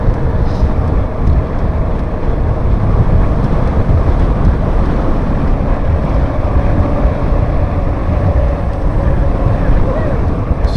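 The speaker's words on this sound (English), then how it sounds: "It's 27 mile an hour, it's quite windy." Strong 27 mph wind buffets the microphone outdoors near the coast, a loud continuous roar and rumble with gusty fluctuations throughout and no clear talking.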